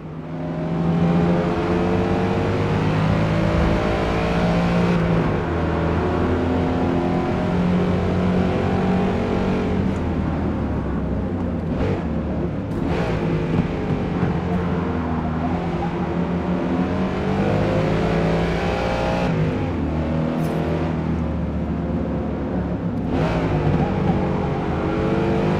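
A Ford car's engine revs hard and holds a sustained, loud roar with shifting pitch through gear changes in the Forza Motorsport racing game, continuous and close with no talk over it.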